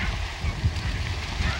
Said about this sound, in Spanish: Un ejemplo interesante es el de la branta o ganso de collar